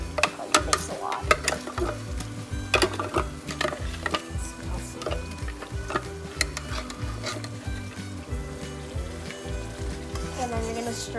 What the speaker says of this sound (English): And then you're gonna stir this.